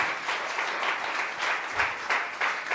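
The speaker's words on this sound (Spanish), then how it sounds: "Den un aplauso bien fuerte al Señor." A church congregation applauds loudly and steadily for nearly three seconds, a dense wash of many hands clapping together with no voices standing out.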